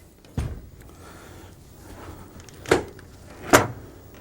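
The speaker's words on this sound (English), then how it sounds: "let's clear this off and see how the door works" A hinged drop-down door on a model railroad is worked by hand, giving three short, sharp clicks or knocks spaced apart over a quiet, faint background.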